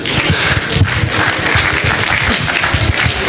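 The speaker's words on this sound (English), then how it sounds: "Big round of applause you too." A burst of dense applause from an audience at a student society induction presentation, many hands clapping loudly and steadily for the whole stretch, with no voices standing out.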